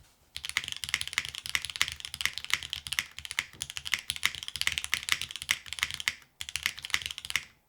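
Keys clack in fast, continuous typing on the Soul 65, an all-aluminum gasket-mounted 65% mechanical keyboard, heard close up with a brief pause near the end and no talking.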